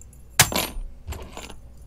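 A couple of small metal keys for a Kaba Ilco mortise cylinder with a Schlage C keyway jingle in two brief, bright bursts, close up, with no talk.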